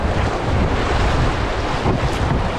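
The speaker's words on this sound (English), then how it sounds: "About a kilometer of basically straight rapids" Whitewater rapids on the Little White River in Northern Ontario, heard from a canoe as a loud, steady broadband rush of churning water mixed with wind buffeting the microphone, with no voices.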